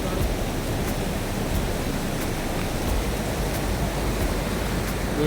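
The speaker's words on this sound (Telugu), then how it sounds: "ఇదే ఆ వాటర్ ఫాల్స్, ఫుల్ వాటర్ తో కలకలలాడిపోతుంది" Small waterfall at Ameenpur lake swollen in the rainy season, a steady broadband rush of falling water, even and continuous with no voices.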